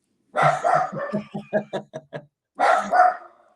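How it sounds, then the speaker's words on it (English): A dog barks close up in a quick run of sharp, loud barks that are sometimes yippy. The barks fall into a series of short rhythmic yips, then two more louder barks follow after a brief pause. "Even my dog barks happy."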